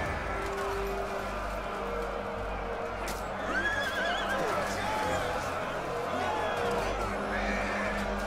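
Horses neigh and whinny during a large battle in Total War: Attila, with hoofbeats and battle noise underneath. The calls come mid-distance over a constant din, and someone talks over it throughout.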